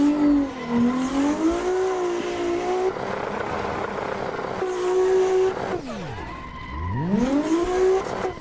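A car drifting in the Assetto Corsa racing game, tyres squealing in long wavering wails over a loud engine drone that rises and falls through slides, close and continuous with no talking.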